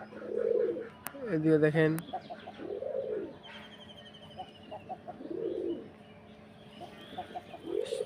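At a pigeon farm, pigeons coo in repeated soft, rounded calls close by, with a few sharper flutters and chirps and a brief spoken remark in between, right after feeding.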